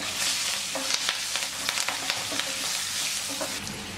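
Turmeric, green chillies and curry leaves fry in a pan with a steady close-up sizzle and crackle, broken by occasional stirring scrapes, with no talking.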